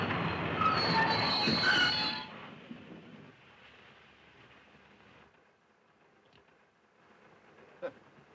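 A train moving along in a 1938 crime mystery film, loud rumbling and squealing rail noise for the first two seconds, then fading to a low steady running hum with a faint clunk near the end.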